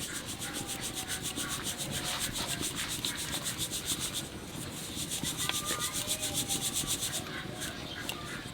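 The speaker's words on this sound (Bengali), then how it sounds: "ডাল সব বাটা হয়ে গেছে, এখন চেলে নেবো।" Ground lentil flour is sifted by hand, producing a steady rhythmic rubbing and scraping, fast repeated strokes with a brief pause midway before the scraping resumes.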